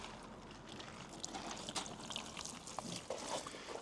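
Water pours and trickles off the glass, plastic lower moulding and paintwork of a Skoda Fabia vRS during an autumn wash, a soft, continuous splashing run-off with scattered drips and no voices.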